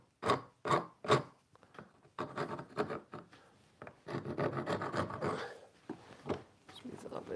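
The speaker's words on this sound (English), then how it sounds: "I suppose I could run a file over there in a minute to get rid of some of the old rasp marks" A file rubs over the wooden tote of an old handplane being restored, giving several short rasping strokes up front, then longer irregular scraping passes, close and fairly loud.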